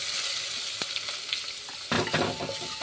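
Chopped onion frying in oil with cumin and asafoetida, a steady close sizzle with a few sharper crackles and stirring near the end.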